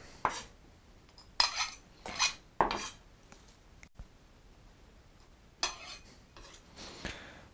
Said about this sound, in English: We want to mince it really thinly because we don't want to have the onion chunks in the guacamole later.